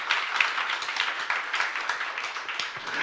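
Congregation clapping in a church youth service after a sermon, a dense patter of many hands held at a steady level, no voices over it.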